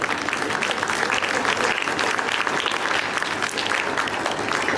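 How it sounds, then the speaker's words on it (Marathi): An audience at a spoken talk claps continuously, producing a dense, steady wash of applause that stays loud and even from start to finish. "वाजवा टाळ्या वाजवा."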